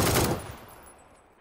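Gunfire in the PUBG battle royale video game, a short loud burst of rapid shots fading into a decaying echo with no talk.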